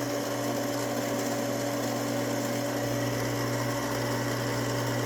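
A Frankford Arsenal case prep center runs with a steady, even motor whine and hum while deburring and chamfering brass rifle cases, close and continuous, with a slight shift in tone partway through.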